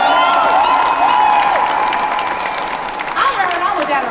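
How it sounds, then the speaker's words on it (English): Rally for recovery crowd applauding and cheering, a dense steady wash of clapping with scattered shouts and whoops under a loud mixed voice and background talk throughout. "Give it up for Noella again."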